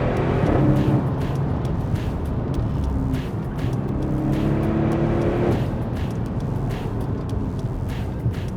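Audi RS6 C7 Performance engine running loud and steady, a deep continuous roar with a brief swell in revs midway, heard alone without voices.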